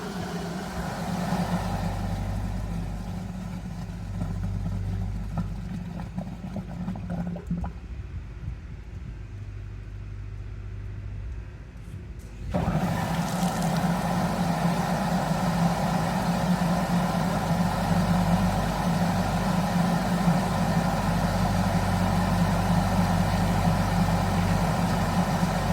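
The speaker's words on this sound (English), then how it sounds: "Right now I'm going to turn off the blower and I'm going to turn it back on once it settles." Pool blower used to blow out swimming pool plumbing for winter, a loud steady drone that drops away to a quieter lull, then starts again abruptly and runs at full strength.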